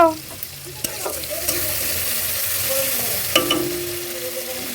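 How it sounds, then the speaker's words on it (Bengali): Potatoes sizzle and crackle in a hot pan, a continuous frying hiss with occasional scraping stirs and clinks, close and fairly loud. "আলুটা ভাজুক"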